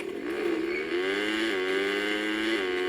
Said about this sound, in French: Nous allons prendre une petite moto.